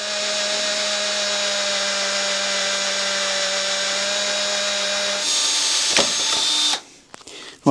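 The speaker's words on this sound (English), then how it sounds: "So a 5mm drill bit should clear out everything except the thread around the outside." A 5mm bit drilling out a broken motorcycle frame bolt whines steadily for about five seconds, then shifts pitch and rattles before cutting off abruptly near the end, with no talking.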